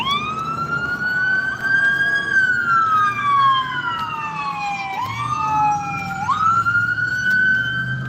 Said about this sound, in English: I hear an ambulance wherever they're going.